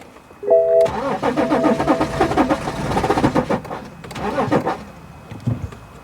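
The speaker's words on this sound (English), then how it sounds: "So let's crank this one more time." A BMW X5 engine with a crank-no-start fault cranks repeatedly after a short chime, a loud rhythmic starter churn that pulses for several seconds, pauses briefly, then cranks again without catching. There is no talking.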